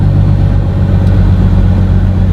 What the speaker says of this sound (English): So now I've got the Jake on. I'm feathering the brake.